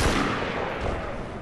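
A single loud gunshot-like blast with a heavy booming tail from the Bloodborne video game, close and short, dying away over about a second.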